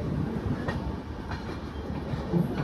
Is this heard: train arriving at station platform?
yes